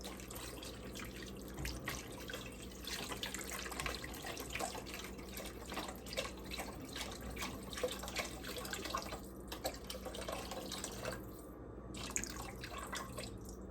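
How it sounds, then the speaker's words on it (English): Vegetable broth poured from a container into a cooking pot, a steady continuous liquid trickle and splash lasting several seconds, close and moderately quiet, with faint kitchen background. "I'm gonna pour my vegetable broth in there."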